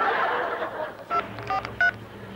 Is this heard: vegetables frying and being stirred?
no